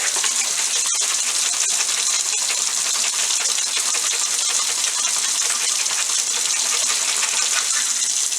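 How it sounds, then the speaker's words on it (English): Water sloshing and rattling inside a water bottle shaken hard to clean it, a steady continuous churning close up with no talk. "One final shake."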